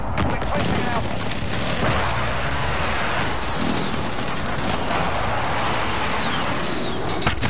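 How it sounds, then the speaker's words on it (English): Rumbling explosions from an enemy precision airstrike in Call of Duty, layered booms and crashes with scattered gunfire, continuous and loud with voices and game callouts mixed in. "Enemy precision airstrike!"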